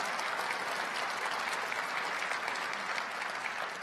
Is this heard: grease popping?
no